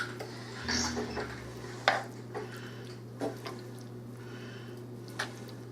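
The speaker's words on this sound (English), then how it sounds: "We're going to stir this in." A utensil stirs cheesy pasta and meat in a tight, crowded pot, giving soft squishy scrapes and a few sharp clinks against the metal over a steady low hum, close and without talk.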